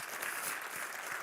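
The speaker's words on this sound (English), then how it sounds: "a little round of applause as well." Steady applause from a crowd, a dense wash of clapping throughout this short moment.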